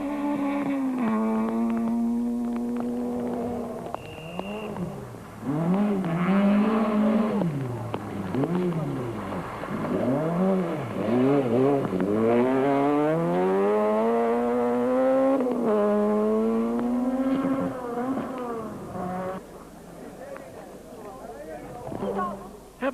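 Rally cars race through a wet stage at Cape Rally 2006, engines rising and falling in repeated revving sweeps as the cars pass close by, with a crowd and commentary-like talk mixed in.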